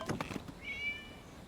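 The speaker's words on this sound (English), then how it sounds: "It was just a cat." A single drawn-out cat meow in the video game Genshin Impact, fairly clear and close, following a few short soft noises, with a quiet background.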